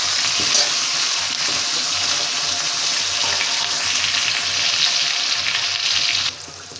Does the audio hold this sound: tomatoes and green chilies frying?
yes